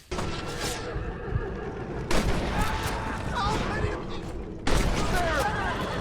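Gunfire in the video game Red Dead Redemption: a few loud, sharp shots break out over a steady busy game soundscape, each followed by a ringing tail.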